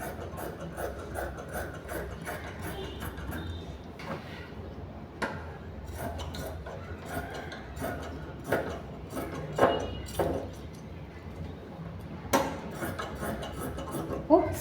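Blouse sleeve fabric being cut with scissors on a work surface, close rasping snips and rustles in an uneven rhythm with sharper clicks of the blades now and then, no voices.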